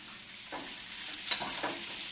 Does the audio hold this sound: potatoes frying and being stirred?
yes